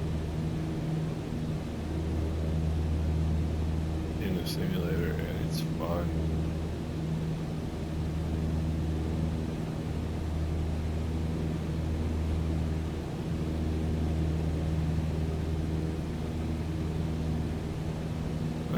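Steady drone of a Cessna 150's piston engine in Microsoft Flight Simulator, a constant low hum with a faint tonal whine, holding level throughout while someone talks over it.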